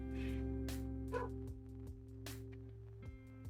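Dogs bark on a quiet residential street, several sharp barks and yips in an irregular rhythm, moderately distant over a faint steady hum.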